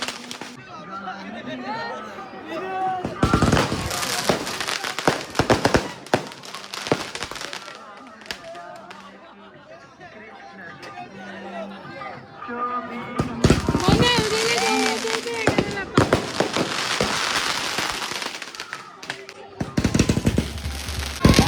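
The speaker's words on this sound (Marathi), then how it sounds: "सगळ्यांच्या अंगावर पडतायत ते फटाके" Rapid bursts of firecrackers crackle loudly in two dense clusters at a wedding, with people talking and shouting nearby between and under the pops.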